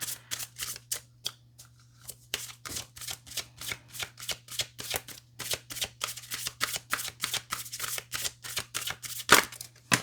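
Tarot cards being shuffled, a rapid run of crisp riffling bursts in an uneven rhythm, close and distinct, ending with one louder snap, over a faint steady hum and with no talking.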